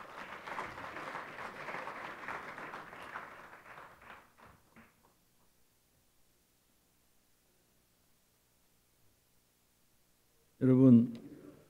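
Audience applause welcoming a speaker to a memorial ceremony marking the fourth anniversary of former Korean President Kim Young-sam's death, a steady mid-level ovation lasting about four seconds, fading into silence, with a brief loud burst near the end.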